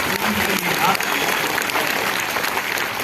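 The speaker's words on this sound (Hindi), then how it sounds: "तो जोरदार ताली होनी चाहिए" Attendees at an indoor training event clap together in a dense, sustained round of applause, with a speaker's voice carrying over the clapping.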